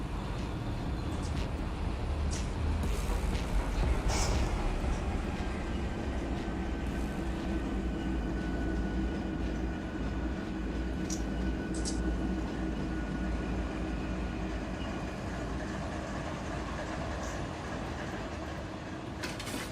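Diesel freight locomotives in the Run8 train simulator on the Seligman and Needles line, a BNSF train, rumble in a steady, continuous low drone with faint rail squeals and clanks rising over it.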